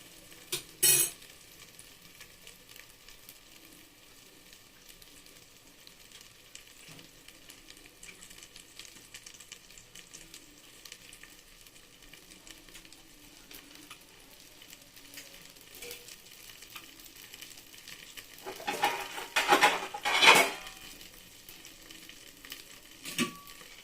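A vegetable omelette fries in a covered pan over low heat, giving a soft, steady sizzle throughout, with a couple of sharp clinks of a lid or utensil near the start and a louder clatter near the end.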